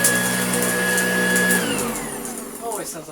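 Hoover Junior U1034 upright vacuum cleaner running steadily with a whining motor tone that winds down partway through, close and loud.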